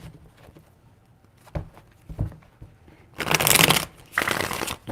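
Tarot cards are shuffled in two brisk riffling bursts, close and crisp, following a few soft taps and handling noises in a quiet room.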